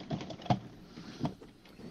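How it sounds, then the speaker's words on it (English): Keys clack on a computer keyboard during a Rec Room live stream, a handful of quick, uneven taps close to the microphone with no talk over them. "like on a keyboard. Just clack, clack, clack, clack, clack, clack, clack."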